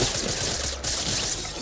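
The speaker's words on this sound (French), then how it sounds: "Je viens bien d'entendre une arme." Rapid bursts of gunfire from a weapon in the video game Fortnite, a dense crackling volley running throughout the short clip, loud and close with no talk.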